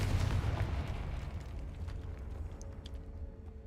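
The Confringo fire spell in Hogwarts Legacy goes off as a deep, rumbling explosive burst that starts loud and slowly decays into a crackling tail over a few seconds, with no one speaking.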